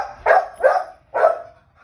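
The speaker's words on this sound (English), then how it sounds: "And here is the dog." A dog barks at birds, three loud, close barks in quick succession with short gaps between them, sharp and clear against a quiet background.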